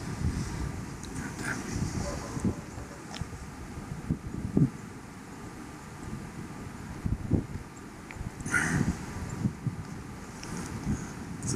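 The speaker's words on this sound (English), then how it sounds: "Just try to shield this from the wind a little bit." Wind buffets a microphone outdoors at a lakeside RV park, a continuous rumbling roar with gusty swells and occasional louder thumps, fairly close and steady throughout with no voices.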